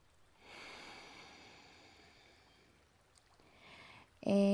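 During a yoga session, one long, soft breath is exhaled close by. It slowly fades over a few seconds before a brief chime-like tone enters at the end.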